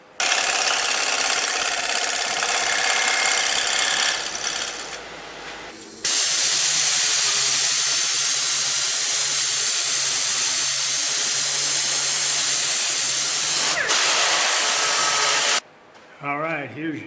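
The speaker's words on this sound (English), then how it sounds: "I'm just going to come in here with the round cutter and clean it up and bring it to about halfway" A rotary tool with a round cutter shaping a bird feeder base: a loud steady high whine with grinding hiss runs for several seconds, drops, resumes for a long stretch, then stops.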